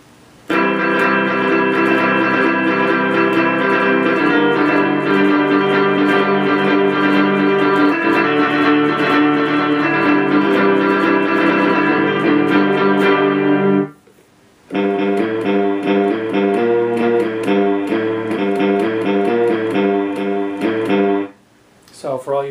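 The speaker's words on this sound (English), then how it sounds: "This is called Surfs Up" Surf-style guitar patch from a YRG Gen2 LE digital guitar plays a sustained, effect-laden melody with reverb, loud and close, broken by two brief pauses.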